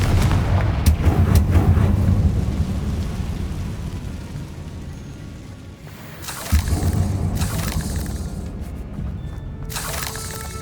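A Confringo blast explodes in the Hogwarts Legacy video game, a loud rumbling boom that fades over several seconds before a second burst of crackling bangs and debris follows, heavy and close.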